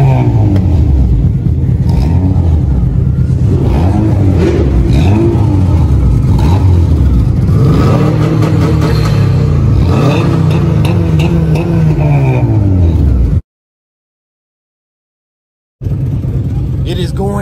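A turbocharged Subaru engine revs repeatedly in loud, close rising-and-falling sweeps at a car meet, with a steady rumbling idle between blips and a brief dropout near the end.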